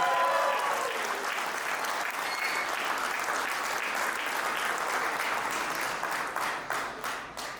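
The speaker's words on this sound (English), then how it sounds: "A big cheer" Crowd applauding at a cricket store event with Rohit Sharma, a sustained wash of many hands clapping at moderate distance, steady for several seconds, then thinning into scattered claps before stopping.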